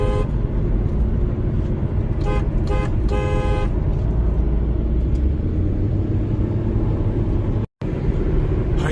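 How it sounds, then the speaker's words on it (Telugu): A car horn honks in a few short bursts over the steady low rumble of a vehicle driving at night through Death Valley, California, with continuous road noise throughout. "మన బండిది హార్న్ ఒక్కసారి కూడా వినలేదు కదా"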